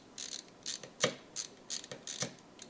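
Clicks and snaps from a RAM module being pressed into the slot of an Alienware m18 laptop: a quiet run of sharp, closely spaced plastic clicks in an irregular rhythm, with one stronger snap near the middle.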